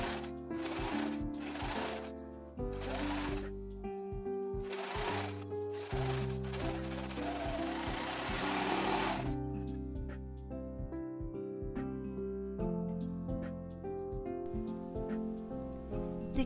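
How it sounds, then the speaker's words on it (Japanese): An overlock serger runs along a pressed-open seam allowance of a patchwork pullover in fast rattling bursts, starting and stopping close by, with fabric handling in between and no talking. "縫い代を割って片側だけにロックミシンをかけておきます。"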